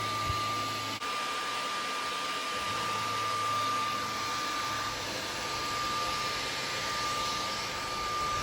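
Dyson 360 Heurist robot vacuum running on strong suction, a steady airy whine with a constant high tone, close and unbroken for several seconds, with no speech.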